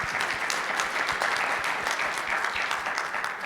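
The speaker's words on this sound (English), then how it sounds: "Give them a round of applause for their efforts and contributions on the board." Steady, moderately distant applause fills a room at an annual general meeting, honouring departing board members, with many hands clapping evenly throughout and no talk over it.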